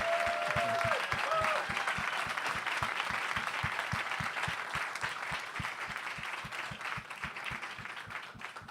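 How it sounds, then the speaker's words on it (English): Audience applause filling the hall at a live monologue stage show, a dense sustained wash of clapping from a standing crowd that holds steady for the whole stretch and tapers slightly toward the end. "Y'all stand to your feet and give her a round of applause"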